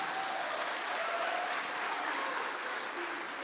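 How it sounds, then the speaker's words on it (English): A church audience applauds the tech team in a continuous, even wash of clapping that holds at moderate volume throughout, with no talking over it. "can we get a round of applause for everyone on tech team right now?"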